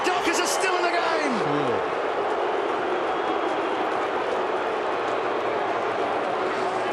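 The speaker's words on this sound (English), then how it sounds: "the crowd's going ballistic here because they thought that Stephen Hill ran with the ball" Loud, sustained roar from a packed crowd at an AFL football match between Fremantle and the Brisbane Lions, broad and continuous throughout, with a commentator's voice briefly rising over it.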